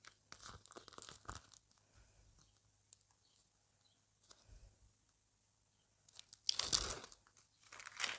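A paper sticker packet from a collectible surprise set is torn open, giving close, faint crinkling and rustling handling with one louder tearing crackle near the end, with no voice over it.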